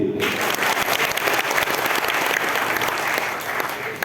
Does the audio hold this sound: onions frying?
no